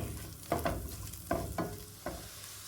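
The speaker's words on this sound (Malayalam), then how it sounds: "ബട്ടർ ആയതിലേക്ക് ഞാൻ പൊടിയായി അരിഞ്ഞെടുത്ത ഗാർലിക് ഇട്ട് കൊടുക്കുന്നുണ്ട്" Finely chopped garlic, about three tablespoons, frying in melted butter makes a faint, soft sizzle, punctuated by a handful of spoon knocks and scrapes against the pan, with no talking.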